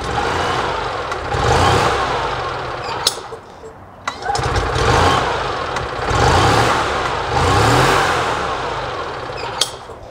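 A rebuilt Robin EH-29C 295cc single-cylinder engine on an EZGO TXT golf cart, running loud and close, revving up and settling back in repeated surges with a few sharp clicks between them.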